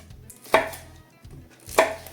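A knife cutting a chili pepper into pieces on a board, two sharp chops about a second apart, close and distinct in a quiet kitchen.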